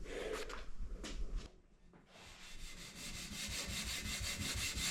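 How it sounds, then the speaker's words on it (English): Sanding pad scuffing a primed door before painting, a steady rough rubbing that runs on with a brief pause partway through, close and fairly loud, with no talk. "we're gonna give it a little scuff and a little degrease"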